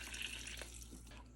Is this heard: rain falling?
no